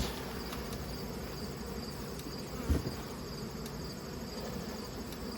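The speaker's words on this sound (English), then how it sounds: "Lots of bees" A steady, dense buzz of a honeybee colony in early winter fills the whole stretch, many bees humming together at close range, with one brief louder knock partway through.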